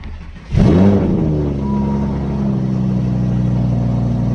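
A 350 motorcycle engine with a rebuilt top end fires up after a brief quiet moment, then settles into a loud, steady idle close by, with no talking over it.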